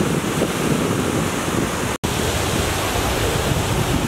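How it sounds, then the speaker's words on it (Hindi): The Maan river flows with a steady, dense rushing roar, loud and close, with a very brief dropout midway before the broad water noise resumes unchanged. "पानी का आवाज़ सुन सकते हो आप"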